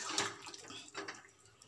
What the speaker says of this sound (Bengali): এবারে দিয়ে দেবো পরিমাণ মতো জল দিয়ে দিয়েছি